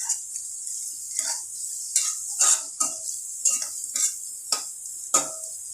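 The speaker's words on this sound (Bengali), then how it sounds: "দিয়ে ভালো করে এটাকে মিশিয়ে নেব" Golden-fried onions and chili powder being stirred in a pan, with a spoon scraping the metal in repeated strokes, close and fairly loud, each stroke a short rasping sweep with brief pauses between.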